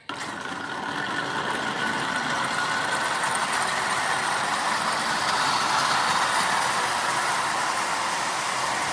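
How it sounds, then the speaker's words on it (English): A Marx 6000 toy train dummy unit with a new micro motor pulls eleven tin litho cars around the track, giving a steady, even whirring rumble that holds for several seconds with no talk. "So I got 11 tin litho cars on the 6000 dummy with the micro motor in it."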